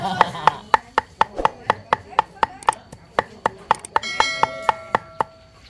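Repeated heavy cleaver chops mincing meat on a board, steady fast rhythm of sharp thuds, close up, with faint background voices.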